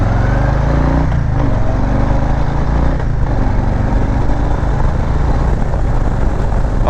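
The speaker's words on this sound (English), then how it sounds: "we're gonna do a quick acceleration test right here. I'm gonna just roll on the throttle and see what kind of power she gives me." A 2020 Harley-Davidson Low Rider S V-twin roars loudly as the rider rolls on the throttle, its deep engine note rising through a couple of gear changes in a steady, close pull.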